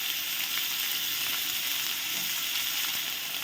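Sliced onions fry in oil with whole cardamom, cloves, cinnamon and cumin seeds, giving a steady, close sizzle with faint crackles and occasional stirring scrapes throughout, no voices.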